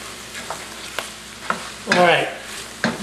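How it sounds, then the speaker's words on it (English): Tomato paste and mushrooms cooking in a pan, a steady low sizzle with regular spoon scrapes about every half second and a longer, louder stir in the middle. "Get it nice and cooked, get it nice and toasty, and then I'm going to mix it up with the mushrooms"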